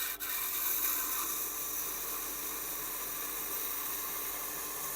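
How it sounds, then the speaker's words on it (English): A Tormek T8 sharpening wheel grinds a very long knife blade held in a US430 jig, giving a faint, steady rubbing hiss that continues evenly throughout. "As the wheel grinds up into the blade, it wants to move the blade."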